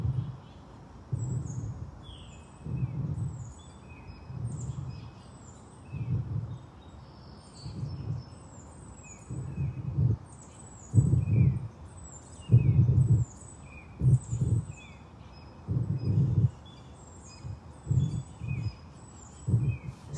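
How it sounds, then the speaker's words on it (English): Birds chirping and singing outdoors on a grassy field, scattered high calls over a low rhythmic pulsing hum that comes and goes throughout. "This beautiful nature, the birds."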